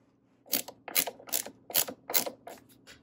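Screws being tightened on the legs of a TCL 43-inch 4K Roku TV stand: six close, quiet bursts of rasping ratchet-like clicks at a steady rhythm, with no talking.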